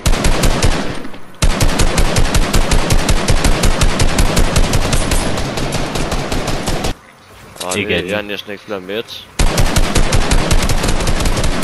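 Loud rapid bursts of automatic gunfire in Fortnite, Chapter 2 Season 8, firing close and continuously with a brief pause in the middle while a player speaks Danish, then firing again.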